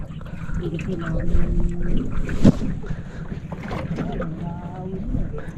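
A boat pushes through water lilies with steady splashing and wind rumble, voices talking faintly over it.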